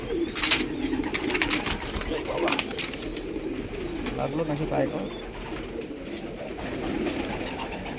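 Pigeons being hand-reared and released in the sun coo in low, rolling murmurs with scattered wing sounds, close by, while someone talks over them.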